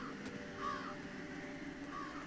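Crow cawing in the video game Jenny LeClue, two distinct harsh caws spaced apart over a faint steady ambient background.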